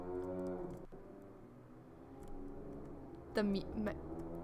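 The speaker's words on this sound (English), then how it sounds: "The mooing is really loud." A loud, low cow moo in the video game Aaahh!!! Real Monsters swells up near the end, following a droning tone, with a quieter moo-like call earlier in the clip.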